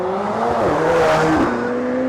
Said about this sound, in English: The McLaren's coming up now.